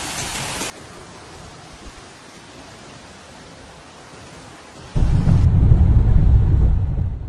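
Thunderstorm with heavy rain and strong winds lashing Bulgaria, heard as a steady broadband roar of rain and wind that surges into a loud, deep rumble near the end, with no voices.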